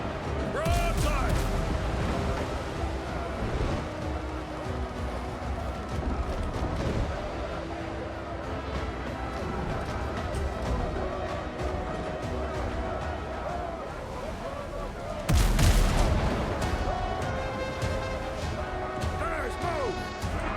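Ship cannons fire a broadside in the pirate video game Windrose, with heavy crashing blasts near the start and again later. Dense rumbling battle noise continues between them, and voices talk over the action.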